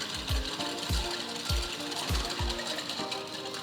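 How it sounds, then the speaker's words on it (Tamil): Whisk beating sugar, vanilla essence and cooled boiled milk in a bowl for apple cinnamon cake batter, a series of regular rhythmic knocks against the bowl, about one every half second, over a background hiss. "200 கிராம் சர்க்கரை, 1 டீஸ்பூன் வெனிலா எசன்ஸ், 300 ml காய்ச்சி ஆற வச்ச பால் சேர்த்து சர்க்கரை கரையிற மாதிரி ஒரு விஸ்க் வச்சு"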